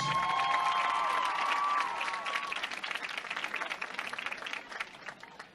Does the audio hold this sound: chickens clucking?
no